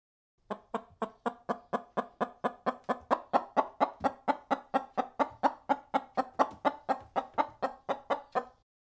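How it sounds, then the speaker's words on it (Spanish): A chicken clucks in a fast, steady series of about thirty sharp clucks, close and clear, with no other sounds around it. "Esta es una gallina."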